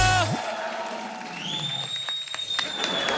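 A studio comedy show audience on a Diwali episode claps and cheers loudly and steadily throughout, with some whoops and a brief musical sting at the start.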